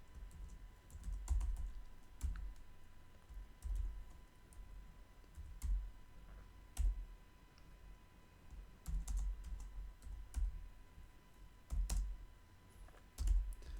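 Code is typed on a computer keyboard in quick, uneven runs of soft clicking keystrokes with short pauses between bursts, quiet and close.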